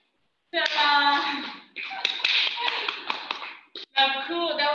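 Thin, scattered clapping from a small pet-show audience, a few hands tapping unevenly in short bursts with brief pauses, fairly close and light, while voices talk and cheer over it.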